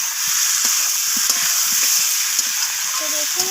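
Potato curry (aloo dum) sizzling in a pan as it is stirred, a bright steady hiss with soft scraping taps throughout.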